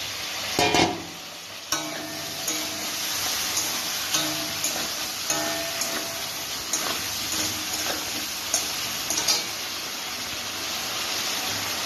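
Pointed gourd pieces go into hot spiced oil and are stirred, giving a steady broadband sizzle with a few sharp clinks and scrapes of the spoon against the pan, close and continuous with no talk.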